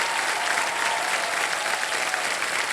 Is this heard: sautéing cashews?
no